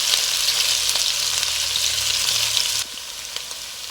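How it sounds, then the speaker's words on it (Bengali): Chopped onion sizzles and fries steadily in a hot pan for cabbage, a loud, even hiss that drops slightly near the end with no talking. "পেঁয়াজটা হালকা একটু বাদামি করে ভেজে নেব।"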